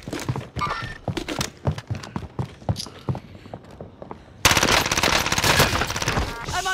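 Gunfire in the video game Call of Duty: Modern Warfare: irregular single shots and thuds at first, then a sudden loud, continuous burst of rapid fire that fills the rest of the clip.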